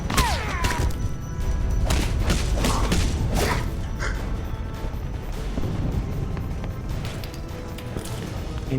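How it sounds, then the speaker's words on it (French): Grenade blast in the video game Alpha Protocol, a loud booming thud amid dense, continuous in-game combat noise with repeated crashes and impacts throughout. "Une grenade."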